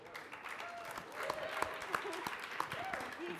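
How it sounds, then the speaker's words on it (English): Audience applause after a design is shown off, steady crowd clapping with a few sharper claps standing out, alongside faint voices and a whistle-like tone. "Everyone, round of applause for the design here"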